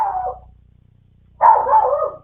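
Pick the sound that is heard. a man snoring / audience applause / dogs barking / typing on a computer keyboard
dogs barking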